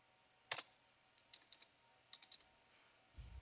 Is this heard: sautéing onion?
no